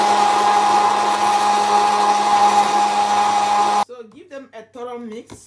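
An electric mixer beats cake batter with butter for a hazelnut cake, giving a loud, steady motor whine for several seconds that stops abruptly before a person speaks.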